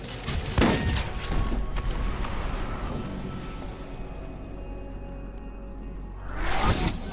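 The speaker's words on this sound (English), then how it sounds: "Because exploding barrels don't do me any harm at all when I'm phase walking" Exploding barrels bursting in the Borderlands video game, a loud broadband boom at the start and another near the end, with heavy rumbling debris and gunfire-like crackle sustained between them.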